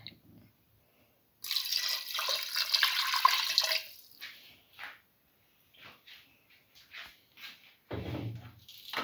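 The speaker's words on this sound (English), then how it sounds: "Put in 150 ml of water." Water, about 150 ml, poured into a pressure cooker in a home kitchen: a steady close splashing pour of roughly two seconds, then scattered soft drips and small knocks.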